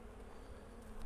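Honey bees hum in a dense, continuous drone inside a hive of brood boxes and honey supers, close and steady for the full second with no voices.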